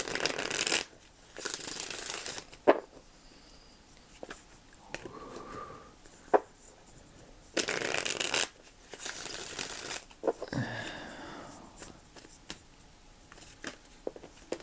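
Tarot cards shuffled by hand in soft bursts of riffling and rustling, several separate rounds with brief taps and pauses between, close and fairly quiet with a faint voice now and then.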